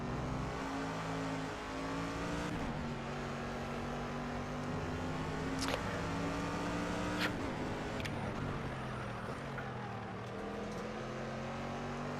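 A race car engine in Project CARS revs up through the gears, its whining tone climbing and then dropping at each shift before climbing again, loud and continuous with no talk.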